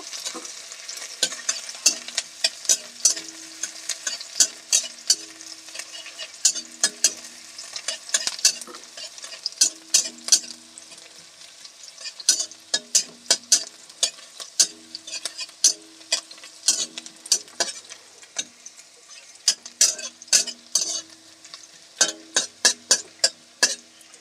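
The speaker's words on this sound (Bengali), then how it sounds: "পেঁয়াজ কুচিটা দিয়ে দিচ্ছি পেঁয়াজটাকে হালকা করে একটু ভেজে নেব" Chopped onions fry in oil in a pan for an egg and potato dish, with a spoon scraping and stirring in rapid, repeated strokes over a steady sizzle and no voices.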